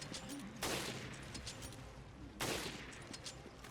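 Two loud bursts of rapid gunfire from the Resident Evil: Revelations video game, each a sharp onset trailing off over about a second, over a steady game background.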